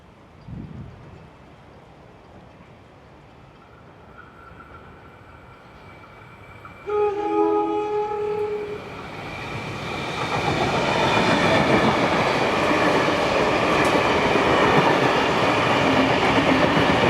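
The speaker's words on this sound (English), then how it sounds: "we see 4403 leading the train back to Wollongong at Corrimal Station" Locomotive 4403 leads a passenger train back toward Wollongong through Corrimal Station in New South Wales, sounding its horn in a few short blasts before the rumble and wheel noise of the passing train build loud and steady.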